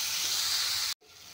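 A steady sizzle of paneer frying in a pan cuts out abruptly for a moment, then returns a bit quieter, with no talking.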